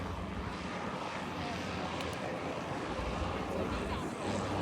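Steady broadband drone of an airship powered by three Lycoming engines maneuvering at the EAA AirVenture show in Oshkosh, heard from a distance with wind noise throughout and a faint voice underneath.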